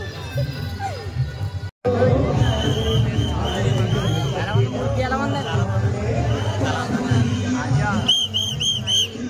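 A dense festival crowd packs the Ganpati celebration in Parel, Mumbai, a constant roar of overlapping voices with scattered whistles and high chiming tones near the end.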